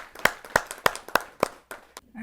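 Hands clapping at a Hindi poetry gathering as a poet is welcomed, five or six sharp, evenly spaced claps from a small group, quiet and close, fading out at the end.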